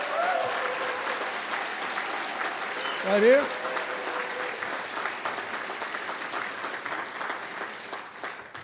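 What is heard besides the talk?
applause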